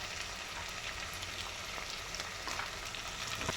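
Potato pieces coated with turmeric and salt fry in a pan with a soft, even sizzle and faint crackles, heard alone at low volume.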